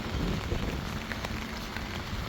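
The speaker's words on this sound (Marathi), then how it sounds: "पाऊस डेंजर सुरू झालेला आहे आता" Heavy rain pours down in a dense, steady hiss with drops drumming on surfaces nearby, loud and continuous.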